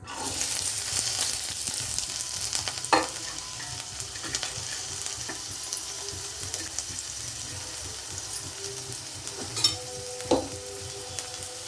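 Steady crackling sizzle of chopped large onions frying in a pan, continuous and close, with a few brief clinks and scrapes of a utensil.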